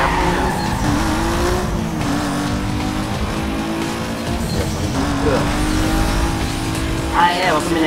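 In the video game Need for Speed: Most Wanted, a car engine drones loudly while tires squeal and skid in drawn-out bursts, with a voice talking over the action.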